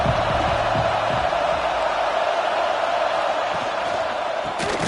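Loud, dense stadium crowd roar held steady throughout, broad and continuous, with a faint low tone early on and a brief burst near the end.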